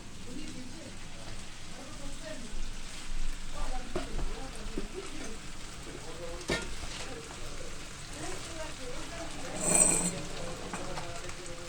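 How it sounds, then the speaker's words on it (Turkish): Meat browning in two pots for Turkish wedding-style pilaf gives a steady sizzle and crackle throughout, with faint stirring noises and a brief louder hiss near the end. "böyle iki tencerede etimiz var kavruldu"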